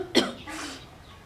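One sharp, close cough bursts out, followed by a softer breathy exhale that trails off into quiet.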